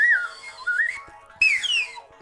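Two bursts of shrill, warbling whistling, the first gliding and dipping, the second brighter and sliding downward, close and clear with quiet gaps between.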